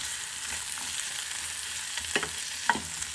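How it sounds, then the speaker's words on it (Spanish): Chili frying with onion and garlic in a pan while making chicken birria, a steady soft sizzle with a few brief stirring clatters near the end, close and moderately quiet. "voy a poner aquí también el chile a que se fría con la cebolla y el ajo"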